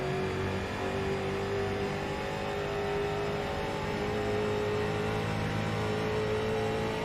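A street stock race car engine revs on the throttle at Phoenix, sustaining a loud, steady droning whine that stays close and even throughout, with no talk.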